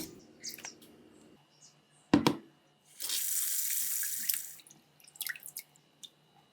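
Tap water running while fish is washed: a steady stream pours for about a second and a half, framed by splashes, drips and handling noises in a sink.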